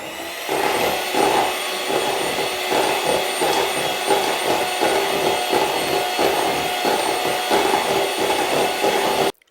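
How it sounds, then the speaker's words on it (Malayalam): Electric beater whipping cream with half a cup of mango pulp in a home kitchen: a steady, loud, close motor whine that runs continuously for about nine seconds and then cuts off abruptly. "മാംഗോ പൾപ്പും ചേർത്ത് നന്നായിട്ടൊന്ന് ബീറ്റ് ചെയ്തെടുക്കാം"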